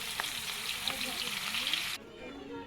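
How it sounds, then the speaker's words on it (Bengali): Onions frying in hot oil for a Bangladeshi prawn curry, a bright steady sizzle with light stirring scrapes that cuts off abruptly, leaving a quieter hiss. "পেঁয়াজ দিয়ে দিয়েছি গরম তেলে"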